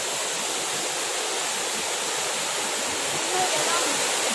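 A waterfall near a village roars with a dense, constant rush of falling water, loud and close, holding steady throughout.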